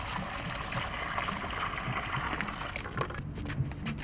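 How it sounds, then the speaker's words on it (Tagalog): Water pours and splashes steadily at close range in a roadside tire repair shop, where it is being applied to check a tire for leaks; the gushing wash runs continuously with small irregular spatters. "Lagyan po natin ng tubig."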